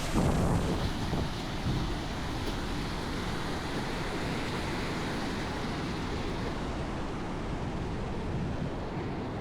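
Strong wind roaring steadily at an outdoor waterside spot at Mallaghatta, a continuous loud broadband rush with gusty swells and no voices.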